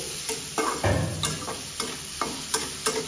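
Onions frying in oil in a pan with a gentle sizzle, spoon strokes against the metal landing in an irregular rhythm, close and fairly quiet, no voices.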